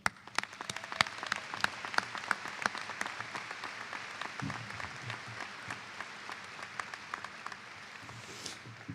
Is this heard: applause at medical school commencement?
yes